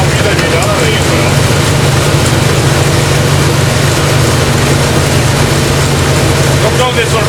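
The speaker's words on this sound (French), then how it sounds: "Donc là on est sur le 3 moteur et ça fait beaucoup de bruit" Loud, steady engine drone of an old truck rumbling continuously throughout, heavy and close, with a constant low throb and no clear gear changes.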